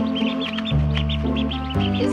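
Chicks and ducklings under a heat lamp give repeated short, high peeps in quick succession, close by, over a steady background hum.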